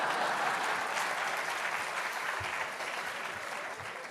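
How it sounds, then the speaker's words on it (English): An audience at a large celebration gives a steady round of clapping, a dense and moderately distant patter that thins slightly toward the end. "Yes, please do applaud."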